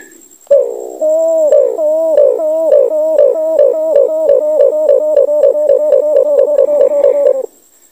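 A captured limokon dove coos close by in a long, rhythmic series of repeated hooting pulses that start, pause briefly, then continue steadily for about six seconds, with no talking.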